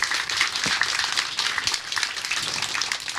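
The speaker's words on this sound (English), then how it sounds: "Let's just give them a round of applause for this great facility" A crowd gives a round of applause for the contractors at the grand opening of a new aquatic center, dense continuous clapping from many people close by, with a few louder individual claps standing out.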